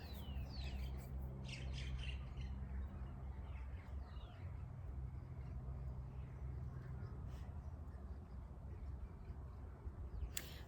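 Birds squawk and caw outdoors on a sunny day, several sharp calls early on over a steady low rumble of background noise, then a few scattered distant chirps, fairly faint throughout.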